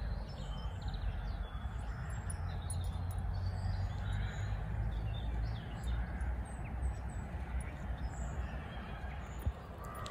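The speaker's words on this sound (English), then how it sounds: "I'm loving hearing the birds this morning. There's some really loud squawking going off in the distance." Faint bird calls and chirps ring out from a distance over a steady low outdoor rumble on a UK morning, scattered and irregular.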